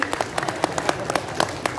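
Scattered claps from an audience at a religious gathering with a habib, a handful of sharp individual hand claps spread unevenly over a couple of seconds rather than full sustained applause.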